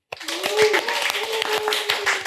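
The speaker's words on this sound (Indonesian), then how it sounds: "ini tepuk tangan buat Bu Iriana Ekasari" Podcast studio applause welcoming guest Bu Iriana Ekasari, a few close, sharp hand claps starting abruptly after a brief silence, mixed with a voice speaking or cheering over them.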